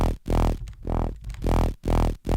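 A gritty dubstep bass, pushed through stacked distortion and OTT multiband compression, throbs in loud rhythmic wobbles with brief choppy stutters between the main pulses, close and alone without any voice.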